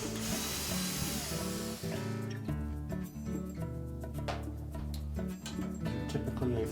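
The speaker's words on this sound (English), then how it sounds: "Next we'll remove the two mounting screws that secure that" A ratchet backs out the 5/16 hex-head mounting screws on the condenser fan motor bracket of a GE refrigerator, giving rapid close clicking pawl ratchets in short bursts, quiet and without speech.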